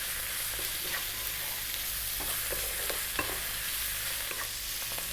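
Leftover turkey mix, seasoned with oregano and chili, frying steadily in a pan while being stirred, a dense continuous sizzle with faint scrapes and clicks of the utensil, no voices.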